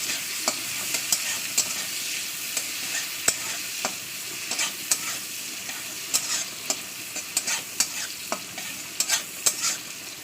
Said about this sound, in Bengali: পেঁয়াজ একটু লাল লেগে ভাজা করতে হবে